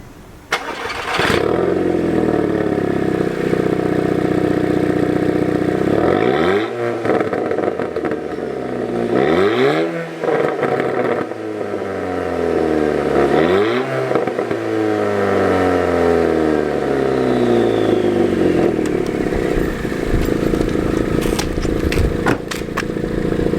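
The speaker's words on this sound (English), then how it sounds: "let me start the car for you now, and you can hear the exhaust" An Audi TT engine cranks and starts, then the exhaust roars through several hard revs rising and falling, loud and close, settling into a rumbling idle.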